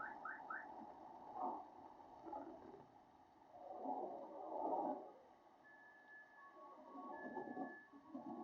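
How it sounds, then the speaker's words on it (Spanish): Car alarms on several stopped vehicles go off after nearby lightning, faint and distant wailing tones that rise and fall over a low rumbling background. "la alarma de varios vehículos se activaron"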